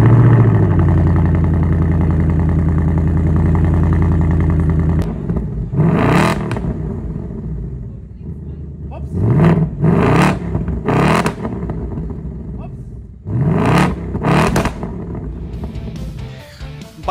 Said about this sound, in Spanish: vamos a escuchar ese V8. En este momento estamos en el modo de escape pista, es el más ruidoso